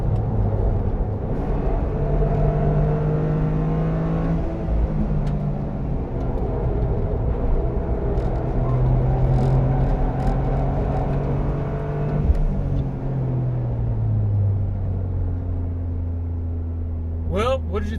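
A 2023 Toyota GR Corolla, a 300 hp hot hatch, is driven on a small technical motorsports track, its engine droning steadily from inside the cabin with rising and falling revs through shifts and corners, some talk mixed in.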